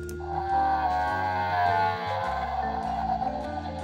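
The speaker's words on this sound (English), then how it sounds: "Just a loud moan." A Jurassic World Dino Trackers Nigersaurus dinosaur toy plays a loud, drawn-out electronic moan that wavers in pitch for a few seconds, close and alone.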